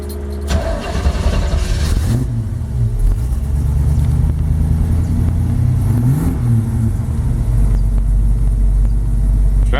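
A 1932 Ford 5W traditional-style hot rod coupe engine idles with a deep, loud rumble close by, blipping the throttle in a couple of revving surges before settling back to a steady idle.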